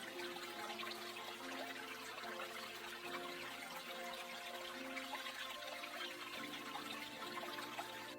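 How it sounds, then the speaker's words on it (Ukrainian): Spring meltwater trickles and gurgles continuously, a soft steady babbling stream heard faintly with no voices. "Особливо дзвенять дзюркотливі струмочки."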